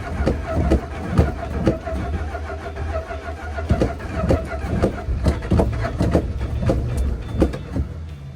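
An old Plymouth TrailDuster SUV engine cranks and runs roughly, with loud, uneven rhythmic chugging and firing pulses throughout, close to the vehicle.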